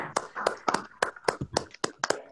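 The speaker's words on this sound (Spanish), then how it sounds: "Lo que sí voy a pedir es un aplauso para Antonio Álvarez." A few people clap, with sparse, uneven claps close by for a couple of seconds, thin rather than a full crowd.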